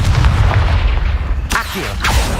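Confringo blasting spell going off in Hogwarts Legacy, loud booming explosive impacts over rumbling game ambience, with sharp blasts near the end.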